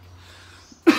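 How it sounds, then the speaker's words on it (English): A single sharp cough bursts out near the end, loud and close, after a quiet stretch with a low steady hum. "Still have a cough"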